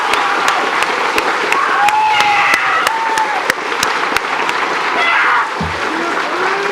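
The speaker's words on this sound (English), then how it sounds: "give these veterans a round of applause" Audience at a high school Veterans Day assembly applauding veterans with sustained, loud clapping and some cheering voices, fading near the end as a voice comes in.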